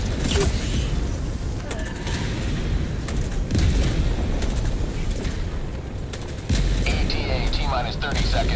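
Orbital barrage strikes in a sci-fi shooter game rumble continuously, a dense wall of deep booms and crackling blasts with sharper reports scattered through, loud and close throughout.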